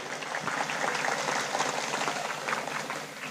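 A crowd gathered for an Islamic religious sermon breaks into steady applause for two police officers, the clapping dense and sustained at moderate volume.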